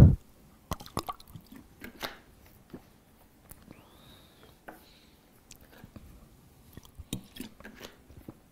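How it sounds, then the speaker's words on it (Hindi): A person drinks water in small sips and swallows close to the microphone, soft wet gulps and faint drips spaced irregularly across a quiet room. "मैं थोड़ा सा पानी पी लेता हूँ यार"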